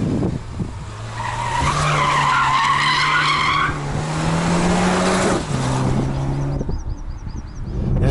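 A rear-wheel-drive 2020 Toyota Supra 2.0 coupé with a four-cylinder engine accelerates hard, its engine note climbing and dropping through gear changes, mixed with tire scrub and road noise before easing off.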